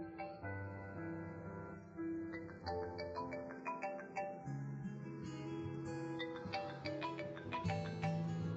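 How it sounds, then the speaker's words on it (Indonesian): A phone ringtone plays a steady, repeating melodic tune, loud and close, continuing without pause and with no voices over it. "Gadis teleponmu berdering."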